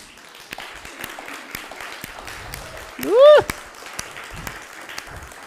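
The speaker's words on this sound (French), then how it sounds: "est-tu assez joyeux pour applaudir notre Seigneur?" A church congregation claps in steady applause throughout, fairly distant and diffuse, while a voice rises in an exclamation partway through.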